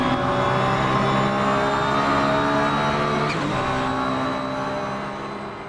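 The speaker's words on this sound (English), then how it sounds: "The car sounds a little bit lifeless, and the turbo chirps are pretty distracting," Engine of a Porsche 911 GT1 mod in the Assetto Corsa racing game, a steady loud droning roar with harmonic whine and turbo chirps, dipping briefly mid-clip before tailing off slightly.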